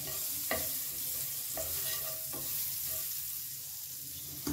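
A piece of butter sizzles in a hot pan at a gentle, steady hiss, with a few soft stirring scrapes spaced through it, close up and with no talking.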